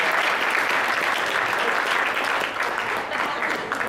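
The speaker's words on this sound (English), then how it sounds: "Let's give Big Mike a round of applause" Dense, sustained applause from a crowd at a wrestling team gathering, loud and continuous for several seconds with no speech on top.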